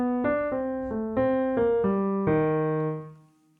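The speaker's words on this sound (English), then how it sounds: "and the descending arpeggio sounds like this." A melodic instrument plays a descending inverted melodic minor arpeggio of about eight clear, sustained notes stepping downward, the last note ringing out and fading.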